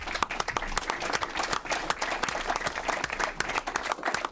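Applause breaks out at a county board meeting electing its chairman, a dense run of many hands clapping close by and steady for several seconds, with a few voices faintly underneath.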